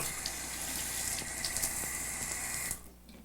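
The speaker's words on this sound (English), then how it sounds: "This bathtub safety rail is portable, and there's an automatic faucet." An automatic faucet in a bathroom fitted for older adults runs a steady stream of water into a basin, continuous and close, cutting off near the end.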